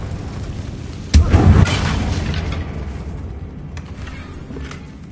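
A Confringo fire spell explodes in Hogwarts Legacy, one loud booming blast about a second in that rumbles and slowly fades over a backdrop of game ambience.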